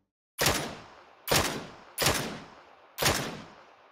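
Gunfire in the video game PUBG: four sharp, loud shots spaced about a second apart, each with a short decaying tail, no voices.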